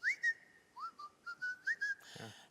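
Someone whistles a short, lilting tune of quick rising and falling notes, close and clear, ending in a brief noisy rustle.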